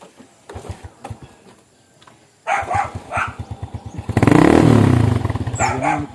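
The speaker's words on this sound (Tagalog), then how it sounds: "Kung paandar ang motor." A motorcycle engine being started, with a few sputtering turnover pulses that catch halfway through into a loud, close idle, then a louder rev before it settles into a rapid steady chug.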